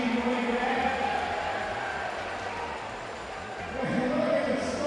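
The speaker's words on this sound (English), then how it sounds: "Nice round of applause for tonight's contestant for the Seth Q money machine money grab" A crowd at an RPI men's ice hockey game against UPEI claps and cheers in a steady arena roar, with an announcer's voice carrying over the applause as it dips slightly and then swells again.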